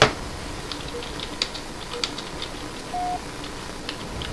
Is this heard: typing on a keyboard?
yes